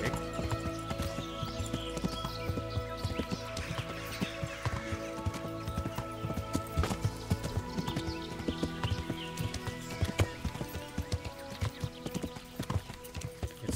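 Horse hooves clip-clop in a steady galloping rhythm while riding in the medieval video game Kingdom Come: Deliverance, loud and continuous with a brief whinny, accompanied by game music.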